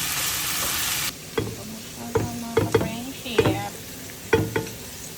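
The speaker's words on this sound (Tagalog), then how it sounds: "Gusto ko medyo toasted ang pagpaluto ng oil." Pork fat frying in oil for adobo, giving a soft sizzle broken by a handful of sharp pops and clatters at uneven intervals, close by, after a short burst of hiss at the start.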